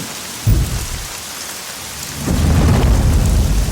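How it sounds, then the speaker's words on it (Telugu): Heavy rain pours steadily, with a deep thunder rumble near the start and a second, longer roll of thunder building under the downpour toward the end. "ఈ వర్షం ఒకటి"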